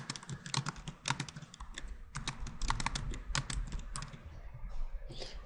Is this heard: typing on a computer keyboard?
yes